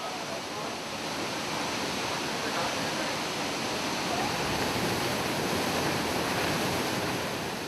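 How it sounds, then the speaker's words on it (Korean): Niagara Falls roars in a dense, continuous rush of water, loud and close, with no breaks. "우레 같은 폭포수에 몸을 내맡기면 빨려들 듯 웅장한 물기둥에 온몸을 흠뻑 적십니다"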